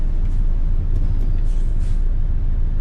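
A loud Peterbilt 351 truck engine in American Truck Simulator drones steadily and close, a dense low rumble with no pauses.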